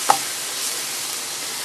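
White onion sizzles in a frying pan with a steady, close hiss and crackle, broken by a single sharp click near the start.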